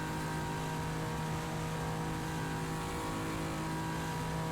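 A Nissan GT-R LM race car engine in a Le Mans racing game, holding a steady, loud, droning tone at speed down a straight with no talk.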